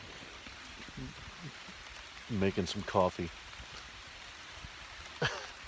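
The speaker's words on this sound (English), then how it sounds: "I'm getting rained on" Light rain falls on a picnic table beneath a tree along the Appalachian Trail in Shenandoah National Park. A soft, steady patter runs underneath while someone speaks briefly, with a few quiet clinks.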